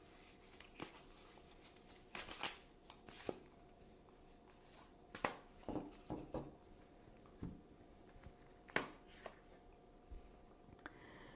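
Oracle cards are shuffled and handled in a quiet room, with soft irregular riffles, flicks and papery clicks spread through the stretch at low level.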